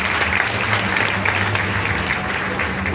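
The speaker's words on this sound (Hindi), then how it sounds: "अमीन भाई के लिए जोरदार तालियां।" A classroom audience claps loudly and steadily throughout, a dense sustained round of applause with a faint low hum beneath it.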